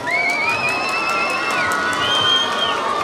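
A festival concert crowd in Beytüşşebap cheers and claps as the governor and mayor are invited on stage, a dense sustained roar with whoops and a sung or shouted tone riding over it.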